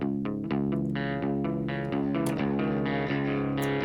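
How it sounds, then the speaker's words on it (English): Clean electric guitar, recorded in Logic Pro, plays a sequence of plucked chords and notes, first dry and then with reverb, each attack ringing out and blending into the next. "Here's without the reverb and with it."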